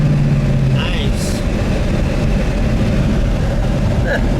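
A 1970 Buick GSX 455 Stage 1 V8 in Saturn Yellow running with a loud, steady low rumble close by, heard from inside the car during a ride, with a brief higher tone near the start.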